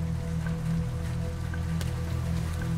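Steady rain patters on a surface in a continuous, even wash, with no voices and a few faint drips standing out above the hiss.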